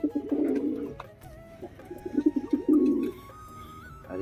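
Pigeons coo in a series of low, throaty bursts close by, with rhythmic rolling calls clustered at the start and again toward the middle, and softer background sounds between.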